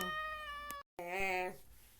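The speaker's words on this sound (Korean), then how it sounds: "야 조용히 좀해 고양아" A cat meowing loudly in long, drawn-out calls, two harmonic-rich meows broken by a brief silent gap, with a voice speaking over them.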